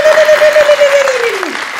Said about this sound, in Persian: خوب کف بزنید خوب تشویقشان کنید